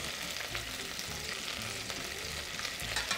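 Chicken carcass frying in a pan without a nonstick coating gives a dense, continuous sizzle and crackle at fairly low level, close by, with no voices.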